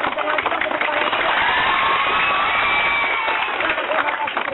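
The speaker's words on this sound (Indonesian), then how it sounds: "Lebih kencang lagi dong, tepuk tangan juga." Students at a school environmental event clapping and cheering loudly together, a dense, sustained wall of applause and shouting voices from a large crowd.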